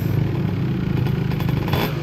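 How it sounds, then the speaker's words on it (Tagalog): A motorcycle called Graydox, recently fixed after a smoking problem, runs steadily nearby with a buzzy, slightly clattering engine note throughout. "Itong ating motor na si Grey Dox"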